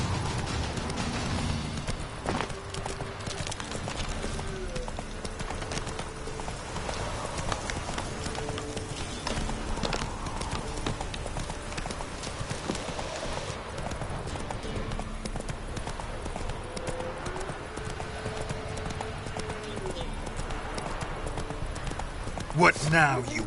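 A horse gallops in The Witcher III: Wild Hunt, a steady rapid clip-clop of hooves running continuously under game ambience, with a voice briefly heard.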